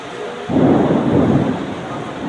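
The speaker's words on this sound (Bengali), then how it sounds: "দেখছেন কীভাবে বৃষ্টির পানি অজস্র ধারায় ধরছে।" A rumble of thunder breaks in over heavy, steady rain during a fierce storm at a market in Bhola, loud and close, with no voices.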